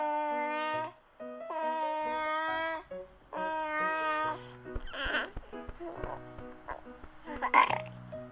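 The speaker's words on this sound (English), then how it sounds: "Wow, that was such a good burp." A baby doll's recorded burp during a silicone baby bottle-feeding role play comes through as a few babbly, voiced gurgles and a short eructation, fairly loud and close, with a cooing voice around it.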